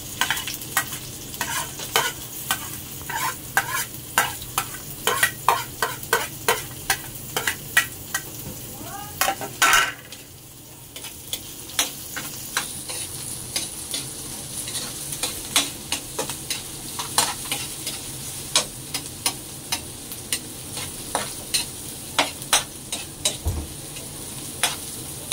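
Onion tossed into browning garlic in a home pan, with repeated sharp clacks of a utensil stirring over a continuous sizzle and a brief burst of fresh crackle midway, no voices.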